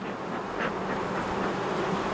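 Honeybees buzz in a hive as smoke is puffed over the top, a continuous steady hum of many insects, fairly quiet and close, with no voices.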